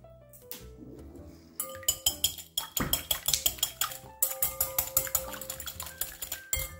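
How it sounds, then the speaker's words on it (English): An egg and an extra egg white are whisked in a bowl, producing fast, rhythmic metallic clinks against the sides in quick repeated bursts, close by, with a short pause partway through. "Let's go ahead and whisk these together."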